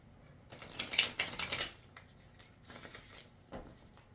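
Tarot cards being shuffled by hand, close and fairly quiet, in two bursts of rapid riffling and flicking clatter with brief pauses between them, followed by a single short tap.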